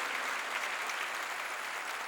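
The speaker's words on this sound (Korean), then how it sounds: "박수로 하나님께 영광 돌려가지고" Applause from a church congregation during a Korean sermon, a dense, steady patter of many hands clapping at moderate volume for the whole short stretch.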